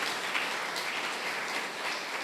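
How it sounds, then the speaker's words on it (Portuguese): A church congregation applauds during a Sunday Mass homily, steady dense clapping filling the whole stretch at moderate loudness with no voices over it. "Aplaude essa presença."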